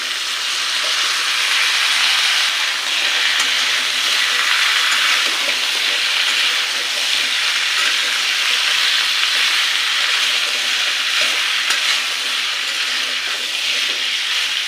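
Potatoes fry in a pan on high heat, giving a loud, dense, unbroken sizzle and hiss that holds steady close up for the whole stretch, with no voices over it.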